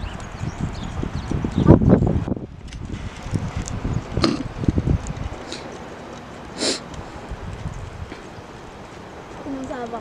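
Hooves clip-clop steadily as a horse trots, fairly close, with a snort and occasional people speaking French over the rhythm.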